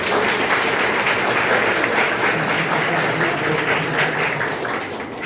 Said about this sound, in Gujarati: આજે સંસ્થા પરિષદમાં માનવ સેવા ગૃહ વધાર્યું છે ત્યારે આપણે સૌ તેમનું તાળીઓથી સ્વાગત